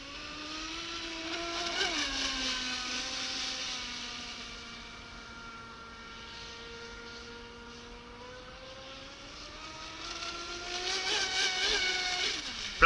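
Navicraft Rebel 12S RC model boat running at full throttle during a propeller test: a steady, high electric whine with layered harmonics, swelling loud at the start and again near the end, easing off in between.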